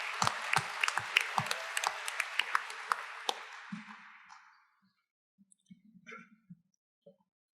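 Audience clapping fills the first few seconds, then fades out, leaving a few scattered faint sounds and near silence.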